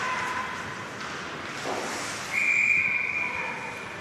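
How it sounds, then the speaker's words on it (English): A referee's whistle at a high school ice hockey game, Kenston against CVCA, rises briefly and shrilly above a steady arena din, somewhat distant. "Whistle"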